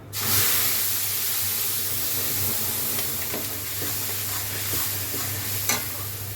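Garam masala with tomato and ginger paste hits a hot pan for a paneer dish, giving a loud, continuous close-up sizzle and hiss, with a few light stirring clicks and no voices.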